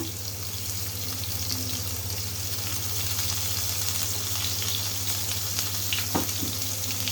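Ground onion, garlic and ginger paste fries and sizzles steadily in a pan, a continuous close crackle with faint stirring scrapes and a low hum underneath, no voices.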